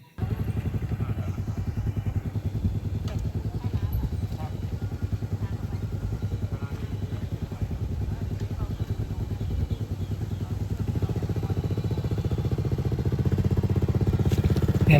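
A motorcycle engine runs steadily throughout, a mid-pitched rumble with clattering texture that swells louder near the end as the bike rides off.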